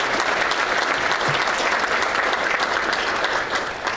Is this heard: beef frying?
no